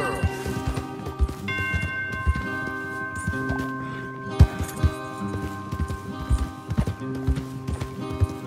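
Horses ridden in Red Dead Redemption 2 clip-clop steadily on hooves, several animals close by moving at a walking gait, with soft tack and ambient noise around them.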